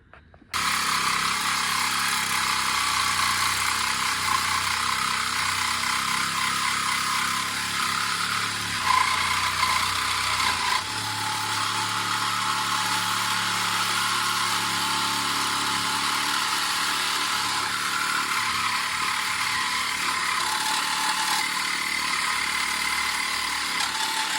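A 1978 Oldsmobile Cutlass engine idles with its exhaust cut off, a loud, raw, steady open-pipe rumble that runs without a break for the whole stretch, close by and with no talk over it.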